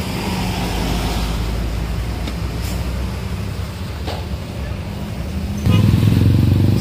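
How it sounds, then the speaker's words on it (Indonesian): Sinar Jaya bus 77RD pulling out of Binorong bus terminal, a continuous rumbling engine drone close by that swells louder near the end as it accelerates away, with surrounding terminal traffic noise. "Sinar Jaya 77RD langsung meninggalkan terminal Binorong"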